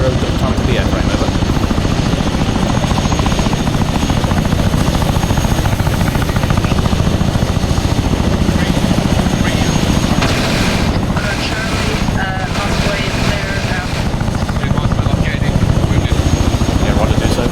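A helicopter in ArmA 3 drones loudly and continuously, its rotor thrum steady and close throughout, with radio chatter over it.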